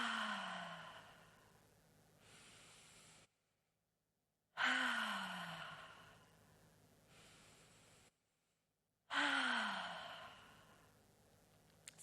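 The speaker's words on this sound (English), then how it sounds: "take 3 deep breaths in through the nose and out through your mouth" Three slow, deep breaths are each drawn in through the nose and let out through the mouth during a grounding yoga session: long, near, audible sighing exhales with short silent gaps between them and no talking.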